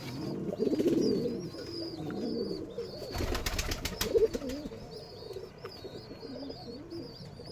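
Giribaz pigeons coo softly and repeatedly in a nearby loft, with faint chirps and a brief rustle midway, fairly quiet and without talk.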